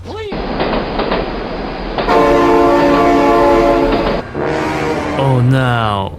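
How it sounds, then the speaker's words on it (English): A train in the BeamNG.drive driving game rumbles past with clattering wheels while its horn sounds in two long loud blasts, another tone sliding at the end; a voice is briefly heard. "Oh my god, train!"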